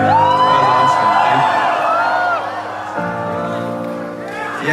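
A concert crowd on the Asian leg of a tour cheers long and loud for the singer, a sustained mass of whoops and shouts that dips slightly midway and rises again.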